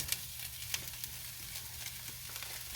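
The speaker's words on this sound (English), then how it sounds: "We're gonna dump the ground beef back in." Ground beef tipped into a hot pan for goulash sizzles steadily with a broad hiss, a few sharp crackles and pops near the start, and the soft scrape of stirring underneath, all close and without talk.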